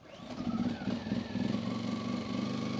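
An Allen 2000-watt portable generator runs steadily close by, its engine giving a continuous mid-pitched hum with a slight rough pulsing and no talk over it.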